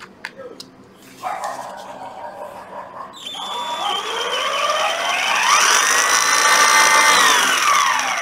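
A Makita brushless cordless drill or impact driver spins up from quiet and climbs to a steady, loud high-pitched whine that holds for several seconds, with a brief voice and knocks beforehand.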